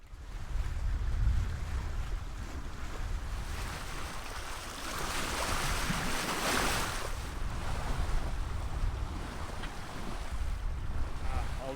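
Sea waves and strong wind surround a sailboat under full sail on passage from Portugal toward the Canary Islands, a dense continuous roar of surf and gusting wind buffeting the microphone, loud and steady with no talking.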